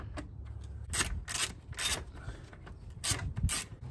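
A ratchet with a 10 mm socket backing out the radiator fan bolts on a 1994-2001 Acura Integra, close-up, giving a series of short rasping clicking strokes in an uneven rhythm, with no talking.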